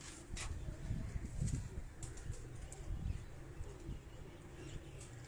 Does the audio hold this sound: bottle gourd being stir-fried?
no